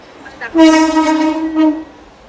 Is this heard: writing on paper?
no